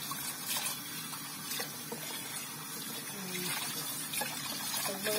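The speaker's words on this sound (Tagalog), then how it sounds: "maghuhugas tayo ng plato" Plates washed under running tap water in a home kitchen, a steady trickle and splash of water with scattered clinks and scrapes of dishes, moderately quiet throughout.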